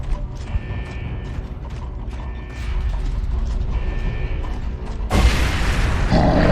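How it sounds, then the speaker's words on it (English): Heavy door mechanism opening in the video game Gears of War 2, grinding gears and ratcheting creaks in repeated bursts that build into a louder, harsher rush as the door gives way, with no speech. "Jack, open this door."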